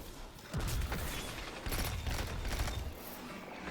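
Rapid bursts of gunfire from a Destiny 2 Trials match crackle in two dense volleys with booming low thumps, fairly loud and continuous, with no talk over them.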